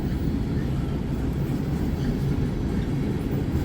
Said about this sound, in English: I think it was 220 axles on this train.